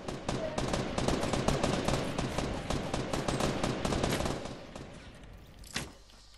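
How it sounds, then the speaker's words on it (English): Pistol fire in the Fortnite Battle Royale video game: rapid, loud shots crackling in a dense, continuous burst that fades out, followed by one last isolated shot. "you're shooting at them with your pistol"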